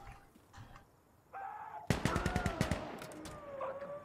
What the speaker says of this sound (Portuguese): Socando artilharia neles.